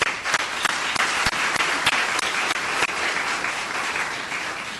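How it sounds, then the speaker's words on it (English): Audience applause for school council candidates at a PTA forum, a brisk, even burst of many hands clapping together that fades slightly at the close. "let's give our candidates a round of applause"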